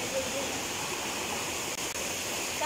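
A waterfall at Pepper Valley resort in Wayanad roars in a steady, loud rush of falling water, close by and continuous throughout, with no voices.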